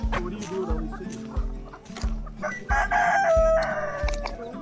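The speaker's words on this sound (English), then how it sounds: "Man, that's a big old chicken." A big chicken on a farm in Botswana crows and clucks close by, with a rhythmic low thumping running underneath throughout.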